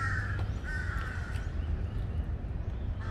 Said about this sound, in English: All the crows here are trying to get a piece of the fish.